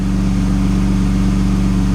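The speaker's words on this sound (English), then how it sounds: "It sounds like it's idling way better than it was" A BMW E36 M3 engine idles smoothly and steadily after an injector and tune change, a close, even low rumble with a regular pulsing throb and no revving.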